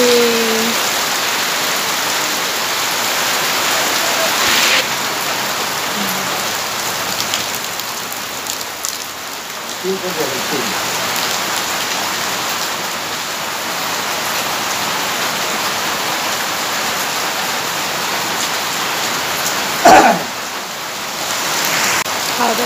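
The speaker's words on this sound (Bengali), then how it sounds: "আবার সেই বৃষ্টি বৃষ্টি বৃষ্টি চলছে চলছে" Rain falling outside, a steady, dense patter of drops on surfaces that continues evenly throughout at moderate level, with an occasional faint knock in the background.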